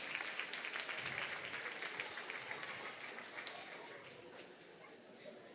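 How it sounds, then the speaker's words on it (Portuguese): A church congregation applauds at an evening Sunday service, a soft and fairly distant wash of clapping that slowly fades, with faint voices mixed in. "Salve de palmas, salve de palmas."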